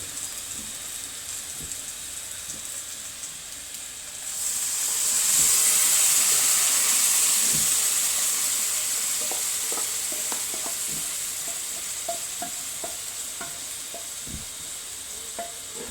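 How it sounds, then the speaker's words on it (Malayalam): Ground paste fries with sautéed onions in a pan. A hissing burst of steam and sizzle swells up and then slowly settles into a quieter fry, with scattered stirring clicks and scrapes throughout. "ഇനി നമുക്ക് അരപ്പിട്ട് കൊടുക്കാം"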